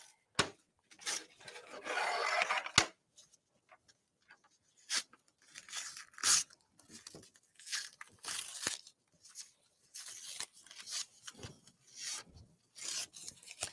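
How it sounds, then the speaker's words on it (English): Fabric tears and rips in irregular bursts of rasping and rubbing while stitched pillow material is pulled off by hand, close up with brief pauses between pulls. "So this will just tear off. Let's go ahead and rip this up."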